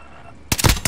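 Sniper gunfire in the video game Call of Duty: Modern Warfare, a sudden loud crack after a quiet half second, followed by a few rapid sharp bursts close up.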